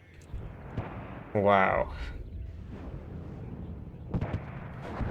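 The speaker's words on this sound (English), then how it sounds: "These are very slow mortar bullets." Mortar fire in the Warno strategy video game, a single loud booming blast midway over a low rumbling battlefield bed, with a few fainter distant thumps and a brief spoken exclamation.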